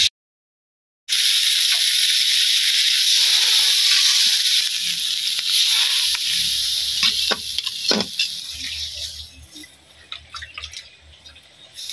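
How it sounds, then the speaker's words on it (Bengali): Curry cooks with spices in a pan, a loud, dense hiss of frying after a brief silence, later thinning into crackles, pops and drips as the sizzle settles. "মশলার সাথে কষানো হয়ে গেল ভাজা হয়ে গেল"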